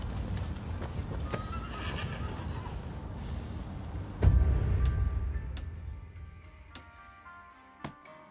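A horse in a samurai-era action video game clip-clops at a steady gallop, then gives a loud neigh that fades out, leaving sparse hoof clicks against a quieter background.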